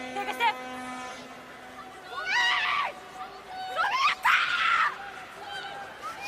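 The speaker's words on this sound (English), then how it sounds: "Some big screams out there." Loud, shrill screams rise in two long bursts from spectators at a rugby sevens match, heard at a distance over a steady crowd murmur, with a brief tone and some background noise.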